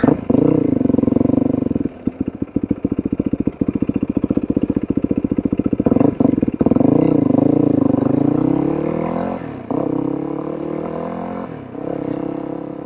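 Converted Yamaha WR450F dirt bike ridden on the street, its engine loud and close throughout with a rapid pulsing idle, then revving up and shifting through gears with rising and falling engine pitch.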